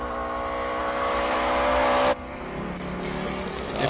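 A Datsun classic race car climbs the Simola hillclimb, its engine note loud and close, revving hard with a steady roar before an abrupt drop and a slightly different, continuing drone.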